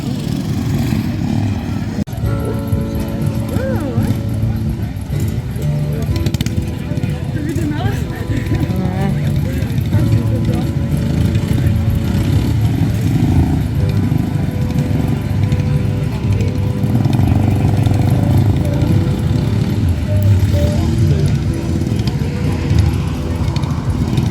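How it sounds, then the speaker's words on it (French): A Honda GX small engine, fitted to a machine with a tractor wheel, runs steadily and loudly throughout, a low continuous drone with people talking over it. "Ah, il fait un beau bruit celui-là, ouais. Le Honda GX."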